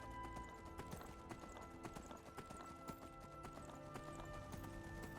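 Rapid clip-clop of horse hooves from Skyrim gameplay, a steady trotting rhythm of sharp hoof strikes with steady game ambience underneath, fairly quiet overall and without talk.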